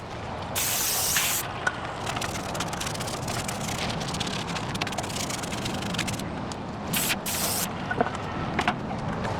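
Aerosol brake cleaner sprays in long hissing bursts onto the front brakes of a 2010 Mercedes-Benz W212 E550, a steady close, wet spray with short pauses and a few faint metallic taps.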